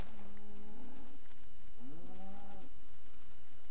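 A pair of cow moos in a video game, the first level and sustained, the second bending in pitch, heard close and clear with no speech over them.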